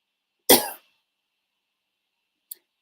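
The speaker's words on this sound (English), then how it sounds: "excuse me for coughing." A single sharp cough close to the mic, followed by silence and a faint short click near the end.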